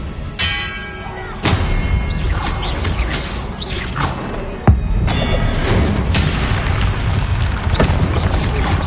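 A magical blast from the Confringo fire spell in Hogwarts Legacy booms loudly, with a sharp crack midway and rumbling whooshes and clatter filling the fight around it.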